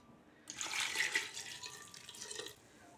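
Water is poured into a pot of lentils and rice in a steady splashing stream for about two seconds, fairly quiet and close, then stops.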